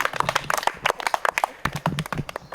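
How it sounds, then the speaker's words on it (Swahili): Children clap in a Sunday school class, a scattered, uneven patter of hands close by that continues for a couple of seconds. "Makofi."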